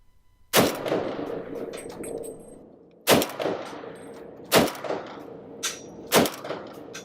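Heavy gunfire from a monstrous Warhammer 40,000 weapon used by the Astartes, booming in four loud, widely spaced single blasts, each followed by a long rumbling, metallic tail.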